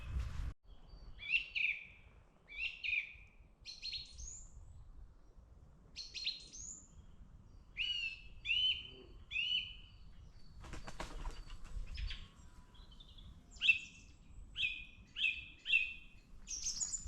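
A songbird sings in woodland on St Breock Downs, a run of repeated bright chirping phrases with short pauses between them, clear and fairly close over quiet outdoor background with some wing flutter.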